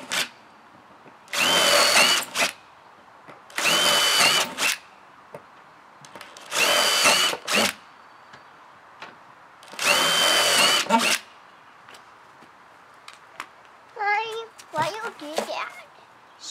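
A power drill bores drainage holes in plant pots in four loud, close bursts of whirring a couple of seconds each, separated by short pauses, followed by someone speaking.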